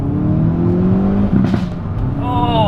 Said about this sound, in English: that sound of that exhaust